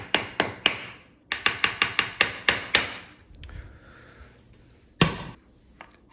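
Bench scraper knocking on a cutting board while preparing chicken pesto pasta, a quick run of sharp close taps in two bursts, then a short scrape and one last louder knock, with no talk.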